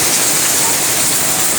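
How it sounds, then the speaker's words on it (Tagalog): Heavy rain pours on a mountain farm, a dense, even hiss of water with no break and no voices. "Kusog kayong ulan dire sa mong bukid no."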